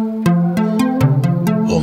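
A Logic Pro Sculpture modeled-string synth with pitch drift plays a loud, evenly spaced series of about seven plucked notes, each wavering and sliding slightly in pitch.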